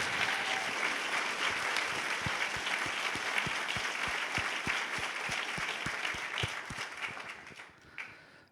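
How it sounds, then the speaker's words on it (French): A conference audience in Québec gives warm, steady applause with some distinct rhythmic claps emerging, then the clapping tapers off at the end. "si vous voulez leur redonner des applaudissements"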